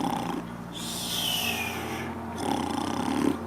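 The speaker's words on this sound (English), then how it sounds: "Both men watched King Saul gently snoring." A sleeping king snores in a tuneful, whistly way, with drawn-out breaths carrying a high sliding whistle, heard fairly close and alone with no talking.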